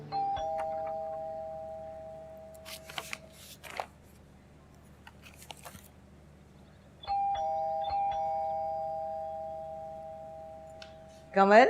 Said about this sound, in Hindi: इतनी देर से दरवाजे पे घंटी बज रही है, सुनाई नहीं दे रहा?